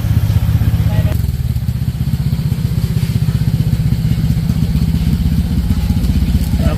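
Engine of a Honda Click 175cc scooter with a remapped stock ECU runs steadily during a road test, giving a close, loud, throbbing putter with a rattly edge, and faint voices under it.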